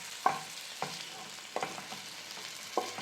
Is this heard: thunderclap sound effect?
no